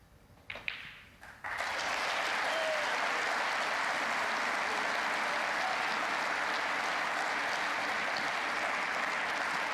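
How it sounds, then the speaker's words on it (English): Sudden burst of applause from a nearby table at a snooker venue during a German Masters match, loud and sustained dense clapping after a brief quieter moment with a few knocks. "There was a burst of applause from another table"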